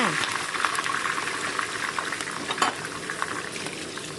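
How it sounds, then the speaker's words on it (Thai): Kaffir lime leaves fry in hot oil, a loud, close, continuous sizzle and crackle with small popping bursts throughout. "ก่อนที่เราจะนำหมูไปทอดค่ะ ทอดใบมะกรูดก่อนค่ะ"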